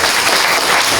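Loud, dense applause from the audience at a World Rivers Day ceremony in Tuaran, a continuous wash of many hands clapping close by with no speech over it.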